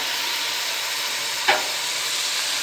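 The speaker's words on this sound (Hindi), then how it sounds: "अब इसमें टमाटर ऐड करते हैं" Tomatoes frying in a pan with garlic-ginger paste, a steady broad sizzle with one short stirring scrape in the middle, close and even, no voices.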